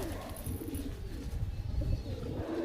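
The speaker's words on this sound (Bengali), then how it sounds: "এই যে শেপের পায়রাটা, এটা মাদা পায়রা।" A female pigeon coos softly in a loft, a low, faint, rolling murmur alongside a few quiet chirps in the background.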